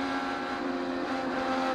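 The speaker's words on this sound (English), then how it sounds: "You can hear the throttle there from McLaughlin, just kind of hunting for traction in that turbulent air" IndyCar engine under throttle as Scott McLaughlin's car hunts for traction in turbulent air at Texas Motor Speedway, a sustained high-pitched engine whine holding a steady tone, loud and without talk.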